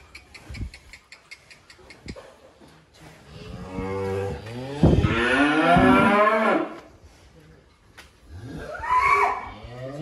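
A large blind cow moos loudly several times, long drawn-out lowing calls with short pauses between them, close by.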